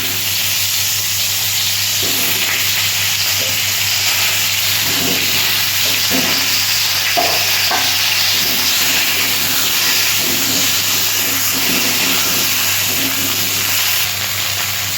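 Cauliflower florets fry in hot oil with turmeric and salt, giving a steady, loud hissing sizzle that carries on throughout, with faint scattered clicks and scrapes and no speech.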